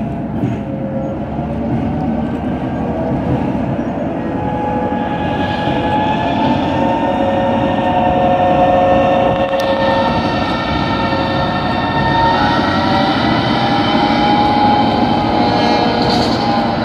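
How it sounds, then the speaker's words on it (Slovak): A NOHAB diesel locomotive with a two-stroke diesel engine running at a railway anniversary event, a loud steady rumbling drone with whining tonal hums, sustained throughout at close range. "švédska lokomotívka Nohat tieto stroje vyrábala na základe americkej licencie"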